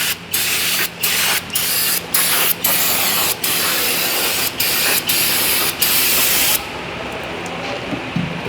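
Brake cleaner sprays in a rapid series of short, loud bursts around the ABS speed sensor on the rear brakes of a 2011 Ford Fusion SE, close up, followed by one longer steady spray that fades to quiet.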